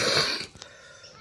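A young forest magpie robin gives a brief, raspy cough close by, a single short burst followed by near silence and a faint click at the end.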